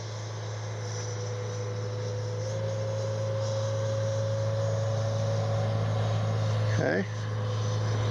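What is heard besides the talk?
Freewing Avanti S 80mm RC jet flying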